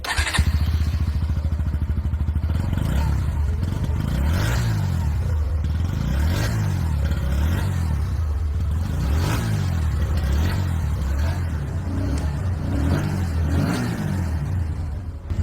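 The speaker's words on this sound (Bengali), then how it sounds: "চলুন আমরা একবার এর এক্সস্ট সাউন্ডকে শুনে নিই।" A motorcycle fitted with an underbelly exhaust, revved repeatedly from idle, with about half a dozen rising and falling throttle blips over a steady close, loud idle, with no talking.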